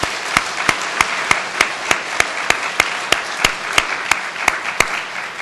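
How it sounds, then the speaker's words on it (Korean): A church congregation claps together in a steady, even rhythm of sharp, evenly spaced hand claps, moderately loud and continuous with no talking. "하나님께 먼저 한번 감사로 한번 박수 올려드리겠습니다."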